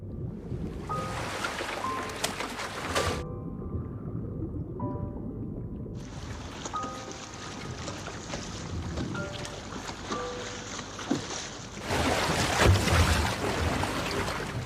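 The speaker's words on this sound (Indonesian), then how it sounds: "Untungnya Carl membawa perahu ya, jadi mereka berdua bisa menggunakannya untuk mengikuti kabel ke lautan." A boat travels across the open sea while following a cable, with a steady rush of wind and water running throughout and tonal music layered over it.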